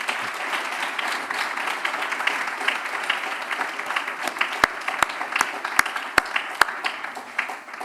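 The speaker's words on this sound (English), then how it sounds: "You should give them applause for the African Society." An audience claps continuously at a graduation ceremony, a dense, even wash of applause with a few sharp, louder individual claps standing out near the end.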